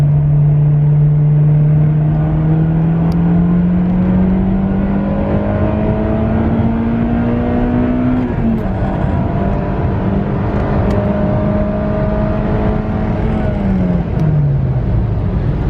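A Honda car with a VTEC engine pulls hard through the gears, a loud continuous engine note rising steadily in pitch, dropping briefly at a shift and rising again before easing off.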